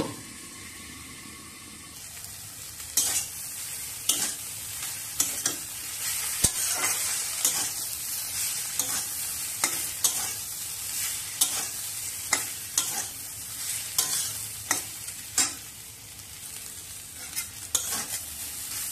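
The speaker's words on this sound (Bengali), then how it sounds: "এবার ডাঁটা দিয়ে একটা মাঝারি করে ঢাকা দিয়ে মাঝে মাঝে নেড়ে নেব" Ash gourd stalks stirred as they fry in a pan, a spatula scraping through them in quick irregular strokes over a continuous sizzle, close and fairly loud with no talking.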